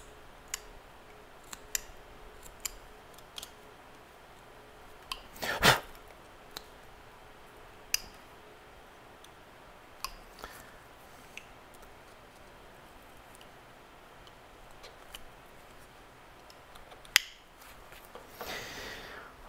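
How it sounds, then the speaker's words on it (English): Woodcarving tool cutting a mouth into a carved wooden face, with sparse faint scrapes and sharp clicks spread through a quiet stretch and a few louder snaps. "make a pretty decent sized cut for the mouth area"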